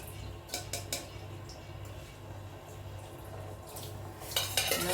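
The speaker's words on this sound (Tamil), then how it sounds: "இந்த மாதிரி ஜல்லிக்கரண்டி வச்சு போட்டுருவேன்." A metal ladle clatters and scrapes against a pot while dropping rice into boiling water, with a few sharp clinks over a low steady hum, ending in a louder burst of clanking.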